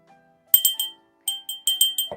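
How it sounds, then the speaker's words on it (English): An 8-inch cranberry glass bell rings in a run of bright, clear chimes: one strike, a short pause, then several quick strikes close together, each fading fast, with no talking. "look at this cranberry glass, 8 inches tall, and it rings."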